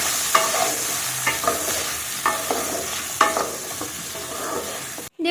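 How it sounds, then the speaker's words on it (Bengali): A spoon stirs potatoes with salt and turmeric in a pan, a series of scraping strokes over a soft steady sizzle, close and clear with no talking. "এবার কিন্তু একটু ভালোভাবে নাড়াবো"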